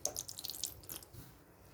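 Water is added little by little to murukku dough in a bowl, giving soft trickling and splashing that fades after about a second, quiet and close with no talk.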